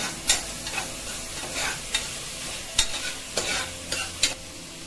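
Chopped sour tomato and coriander sauté in a hot pan, a close sizzle punctuated by repeated sharp scrapes and clacks of stirring at an irregular rhythm.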